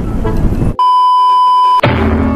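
A motorcycle alarm sounds one sustained electronic beep lasting about a second, loud and clear. Road and engine noise surrounds it during a wet-track ride.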